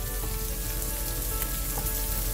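Caramelized apple slices fry in a hot pan for cheeseburger sliders, giving a dense, continuous sizzle that stays loud and even throughout, heard up close with no talking.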